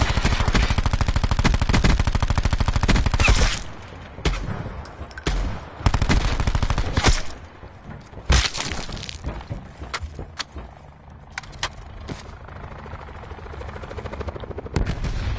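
Call of Duty Blackout gunfire comes in a loud sustained automatic burst, then breaks into scattered shots and short volleys with gaps between them, and no one speaks.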